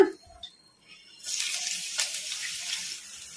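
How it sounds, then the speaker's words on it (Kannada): Sliced onions dropping into hot oil for an onion Manchurian, a quiet start giving way to a steady hissing sizzle that holds for the rest of the clip. "ಈಗ ಎಣ್ಣೆ ಕೂಡ ಬಿಸಿಯಾಗಿದೆ ಈಗ ಇದಕ್ಕೆ ಉಳ್ಳಾಗಡ್ಡಿನ ಉದ್ದುದ್ದ ಕಟ್ ಮಾಡಿ ಇಟ್ಕೊಂಡಿದ್ದೆಲ್ಲ ಈ ಥರ ಈಗ ಇವನ್ನ ಹಾಕಿ ಫ್ರೈ ಮಾಡ್ಕೊಂಬಿಡೋಣ"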